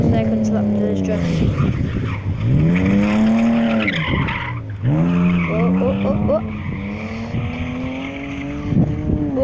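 A car drifts at Crail, its tires squealing in long, loud, wavering skids over a steady roaring engine, with the pitch sweeping up and down as it slides through the turns.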